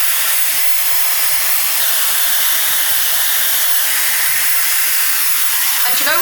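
A Shark FlexFusion hair dryer with diffuser attached runs steadily on medium power and medium heat, a continuous close airy roar with broadband hiss that stays constant throughout.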